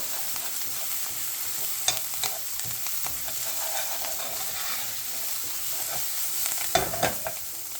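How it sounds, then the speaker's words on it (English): Garlic fries in a pan with a soft, steady sizzle, punctuated by a few scraping stirs of a utensil, close and alone without talk. "we're going to come in with the garlic. We'll let that get some color to it"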